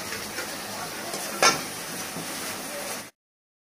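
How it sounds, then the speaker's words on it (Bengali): Spices with tomato sauce sautéed in a pan and stirred with small splashes of water: a steady, close sizzle with one sharp utensil scrape midway, stopping abruptly near the end. "অল্প অল্প জল দিয়ে আমি একটু কষে নিচ্ছি"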